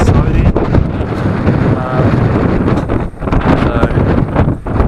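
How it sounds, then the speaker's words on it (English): Cold wind blowing off the snow at Arthur's Pass in New Zealand, heard while cycling, a loud, continuous gusty roar buffeting the microphone, surging and dipping briefly. "The wind's coming straight off the snow there."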